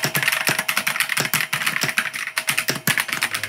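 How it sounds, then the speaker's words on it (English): Rapid clacky keystrokes on a transparent mechanical keyboard, a quick uneven rhythm of crisp taps heard up close with no talking. "Now let's do the typing ASMR sound."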